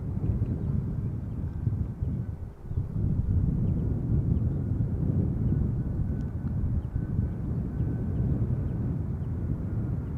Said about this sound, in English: behind it is Air Canada flight 808, also coming in from Canada but from Toronto, and it is a Dreamliner